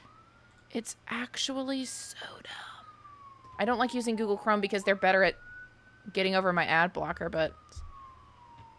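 A faint emergency vehicle siren outside wails steadily in the background, its rising and falling tone running beneath close, whispery talking.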